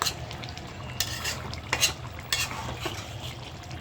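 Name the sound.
stirring fish curry cooking in a pan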